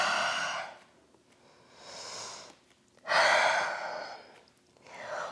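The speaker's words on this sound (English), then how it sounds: "out through the mouth." Slow audible breaths during yoga practice: airy exhales through the mouth, alternating with quieter inhales, close and unhurried with short pauses between.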